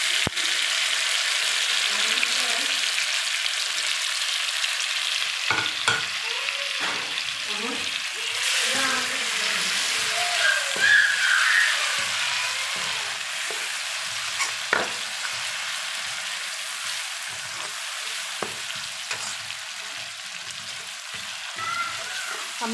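Chopped tomatoes frying in a pan for a chicken dahi masala, a steady hiss with bursts of stirring and scraping throughout, fairly close.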